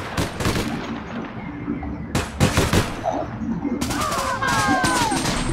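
Submachine gun fire in a first-person shooter, several sharp bursts in quick succession separated by brief pauses, loud and close, with a player's voice talking over parts of it.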